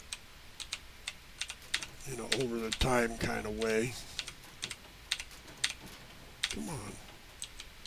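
Computer keyboard typing during a Starfield play session, with scattered light key clicks throughout and someone talking over them for part of the time.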